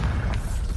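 A Bombarda explosion spell cast in the game Hogwarts Legacy: one short, dense booming blast with a deep rumble, filling the whole brief moment.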